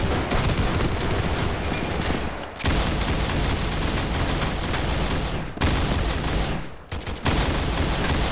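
Shotgun fire in a Roblox gun game, heard as loud, dense volleys of gunshots that continue almost without pause, with brief gaps between bursts and no talk over them.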